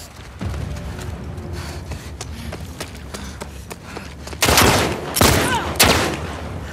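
Heavy gunfire in The Last of Us Part II: several loud, close bursts of rapid shots crackle in quick succession near the end, after a stretch of quieter rumbling ambience.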